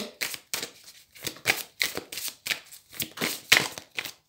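Tarot cards are shuffled in quick repeated riffling bursts, about a dozen crisp papery flutters in a steady rhythm, close and fairly quiet, with no talk.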